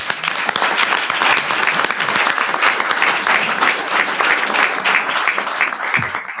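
An audience at a signing ceremony for a large Utah tax package claps in sustained, dense applause for several seconds, loud and close, tapering slightly toward the end.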